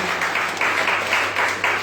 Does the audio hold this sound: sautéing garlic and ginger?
no